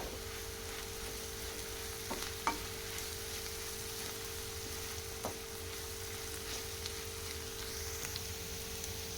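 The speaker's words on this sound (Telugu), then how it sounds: "ఆనియన్ వేసుకొని ఫ్రై చేసుకోవాలి" Chopped onions fry and are stirred in a pan for a bitter gourd fry, a steady sizzle running throughout with a few sharp clicks of the spoon against the pan.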